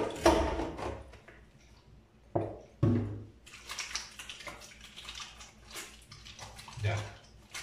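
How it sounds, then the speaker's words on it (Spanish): Hands washed with soap under running water, with intermittent splashes and rubbing noises, a few louder bursts of water, and quieter stretches of flowing tap in between; a voice is faintly present. "lavarnos las manos con abundante jabón y agua"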